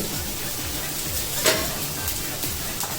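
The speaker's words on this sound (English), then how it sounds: "a little bit of jeera, that's cumin seeds, saute." Cumin seeds with green chili sauté in a pan for a Goan fish curry, giving a soft, steady sizzle with a few faint clinks and stirring scrapes, close and moderately quiet.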